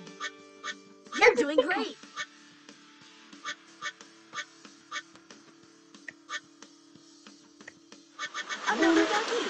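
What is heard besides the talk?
duck quacking when collecting duckies in a Paw Patrol water park video game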